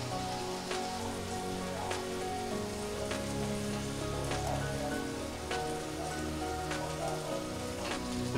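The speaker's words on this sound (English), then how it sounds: "Now it's time to add your bacon to your frying pan." Bacon frying in a pan while a double cheeseburger cooks, giving a steady, dense sizzle and crackle with scattered sharp pops throughout, fairly loud and continuous with no talking.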